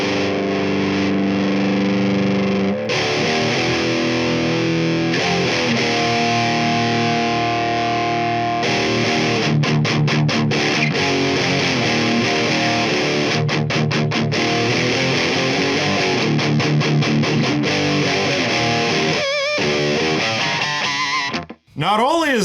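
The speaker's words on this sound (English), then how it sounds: "it sounds more like a distortion pedal than the last guy" An electric guitar plays through a DOD 250 op amp distortion pedal, heavy distortion with buzzy sustained notes and fast choppy strums, loud and close, ending in a sudden cutoff.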